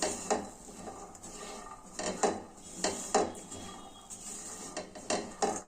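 Spiced soaked chickpeas being tossed with chili powder and a little oil in a pan, giving a series of metallic spoon scrapes and clanks against the pan at an uneven rhythm, close and without speech.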